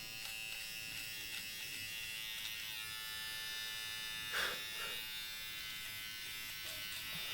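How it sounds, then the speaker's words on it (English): A battery nose hair trimmer buzzes steadily and fairly close throughout, a continuous electric hum with a brief bump partway through, outdoors while solo camping at an old fire lookout. "I'm looking for the nose hair trimmers."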